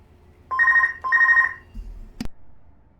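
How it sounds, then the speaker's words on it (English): A telephone in the PC game Star Wars: Knights of the Old Republic II rings in two even electronic bursts, followed by a quiet pause and a sharp click, with no talk. "I was waiting for the phone to stop ringing there."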